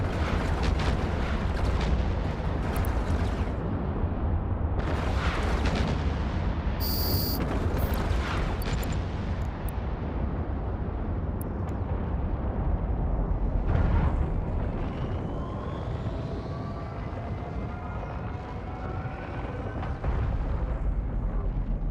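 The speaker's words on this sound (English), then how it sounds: "Fire the missiles." Missiles fire in the space game Eve Online, a loud, continuous roaring rumble with repeated booming bursts that lasts the whole time.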